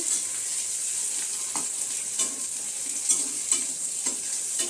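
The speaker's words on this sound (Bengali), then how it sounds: "আমি পেঁয়াজটা হালকা একটু ভেজে নেব।" Chopped onions frying in a pan for dal, giving a constant bright hiss with occasional soft scrapes and taps of the stirring spoon, close by and without speech.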